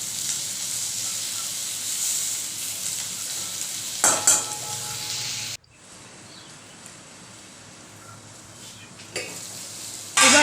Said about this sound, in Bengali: আলুটা খুব সুন্দরভাবে ভাজা হয়ে গেছে।